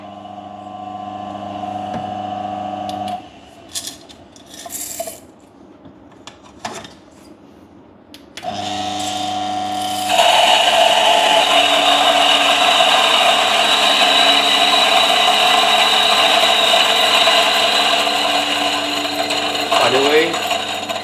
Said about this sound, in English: this is my DF64 Gen 1. Still works very well. I love this grinder a lot.